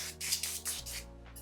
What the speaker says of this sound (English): We're gonna take out our spray, our olive oil spray.